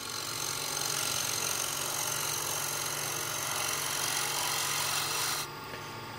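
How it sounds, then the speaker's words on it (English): Wood being worked with a shear scraper, a continuous close rasping scrape that holds steady for about five seconds before stopping suddenly and leaving a quieter hum. "But first I want to shear scrape it."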